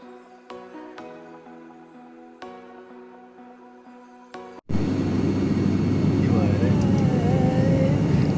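After a stretch of music, a loud, steady engine of a small propeller plane drones close by from inside the cabin, a constant roar with a wavering tone on top.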